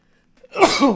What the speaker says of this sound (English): I had to sneeze there.